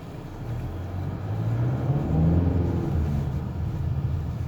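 A Mazda CX-5 with i-Activ AWD climbs a steep snowy slope, its engine rumble swelling and straining near the middle before easing, heard close and without voices.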